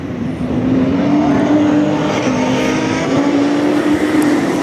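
Rallycross race cars, a Toyota among them, roar down the straight at Kerlabo, a loud sustained engine drone with a steady pitch holding throughout, no talk over it.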